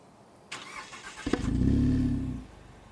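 A Mazda CX-30 with a sport exhaust cranks briefly, then catches into a deep, rumbling idle that swells and settles. It is heard from about a metre away, with no talking.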